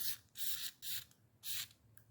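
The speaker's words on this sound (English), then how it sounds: "And then spray your carrier, the bolt carrier group here." Cleaner is sprayed from an aerosol can onto an AR-15 bolt carrier group in four close hissing bursts of roughly a third of a second each, separated by short pauses.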